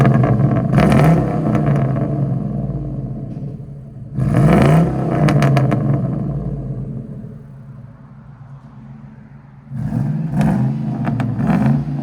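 A 1999–2004 Ford F-150 with the 4.6L V8 and aftermarket exhaust barks through three separate throttle blips, each a sharp, rumbling rev that settles back to a deep, steady idle between bursts.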